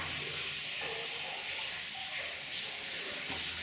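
Water falls steadily behind a collapsed dam inside the flooded Oak Creek Mine, a broad, hissing rush that carries on evenly at a distance with no talking.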